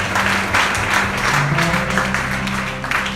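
A church congregation applauds the Lord during a morning service, steady rhythmic clapping from a crowd in a hall, with a faint voice under the claps.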